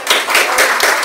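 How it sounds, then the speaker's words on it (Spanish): A short, loud burst of applause at a neighbourhood political gathering in Cartagena, with close, brisk clapping from a small group that lasts about a second. "Un aplauso."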